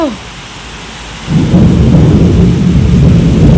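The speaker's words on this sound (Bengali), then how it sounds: "কি জোরে বাজ পড়ছিল।" Loud thunder during a rainstorm: a quieter stretch of falling rain gives way to a sudden deep, roaring crack that rumbles on heavily to the end, close and powerful.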